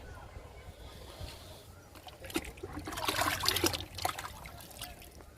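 Liquid fertilizer made from kitchen waste is poured onto potted cherry and sweet lemon plants, giving a soft splashing trickle that swells in the middle and then tapers off, with faint background noise throughout.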